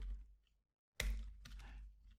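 Quick bursts of typing on a computer keyboard in a Linux terminal, close and fairly quiet, with a brief silent pause between two clusters of key clicks.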